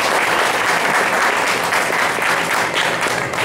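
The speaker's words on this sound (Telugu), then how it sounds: "ఒకసారి చప్పట్లు కొట్టడం." An audience at a devotional recital breaks into a single burst of dense, steady applause that fills the whole moment at a loud, even level. No voices over it.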